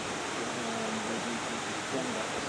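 Waterfall pouring into a pool on a walking trail in Cuba, a dense, even roar of falling water filling the whole clip, with a faint voice murmuring beneath.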